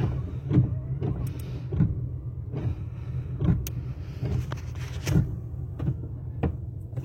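An old car's engine runs with a steady low rumble as it sets off for a short drive, punctuated by soft rhythmic thumps roughly every second, close and moderately loud with no talking.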